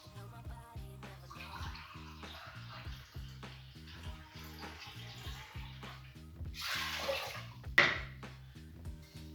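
Water is poured into a pan of uncooked rice in a kitchen, making a brief splashing rush near the end. Quiet rhythmic background music plays throughout.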